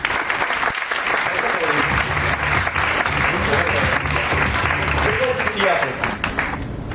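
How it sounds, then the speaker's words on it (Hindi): A seated audience at a team-building talk breaks into sustained applause, dense clapping filling the room throughout with voices mixed in underneath. "तालियां बजाओ इसके लिए।"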